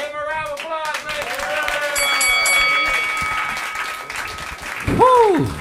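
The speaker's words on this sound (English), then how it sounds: "Give him a round of applause, man." Comedy club crowd at a roast battle in New York applauds and cheers steadily for several seconds, with whoops and voices mixed in and a loud shout near the end.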